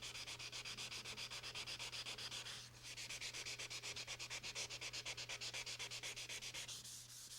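A part from a Delta Unisaw is sanded by hand, giving fast, even rasping strokes in a steady rhythm with one brief pause, close and continuous, over a low steady hum and with no talking.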